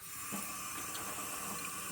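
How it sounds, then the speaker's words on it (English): Cold water runs steadily from a tap onto a paper towel, a soft, even hiss at low level with no talking. "you want to wet the paper towel a little bit. Cold water."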